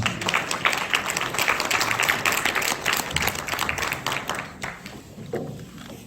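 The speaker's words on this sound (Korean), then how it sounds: "힘찬 박수로 맞이해 주시길 바랍니다." An audience at a university aviation academic conference applauds to welcome a presenting team, with steady clapping from a crowd that fades out toward the end.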